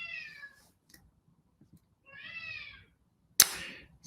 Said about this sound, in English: Sorry for my cat if you hear him.